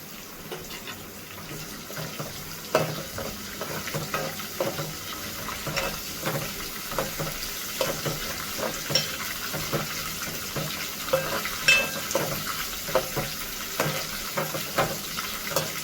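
Curry leaves fry in oil in a pan on a lit stove, a steady soft sizzle with scattered crackles and stirring clinks, moderately quiet with no talk.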